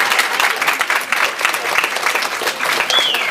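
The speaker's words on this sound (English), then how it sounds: "Let's have a clap for the LAA." Applause at a school board of education meeting, a burst of crowd clapping with uneven rhythm, fairly close and loud, sustained for a few seconds.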